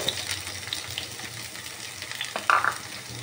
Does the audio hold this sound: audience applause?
no